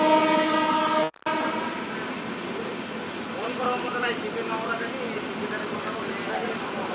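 A high-speed passenger train runs behind a WAP7 electric locomotive between Vijayawada, Gudur and Renigunta. A loud, sustained horn blares, then cuts off abruptly, and the train keeps rumbling steadily with voices in the background.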